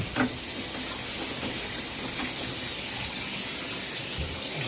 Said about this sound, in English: Open up the shower,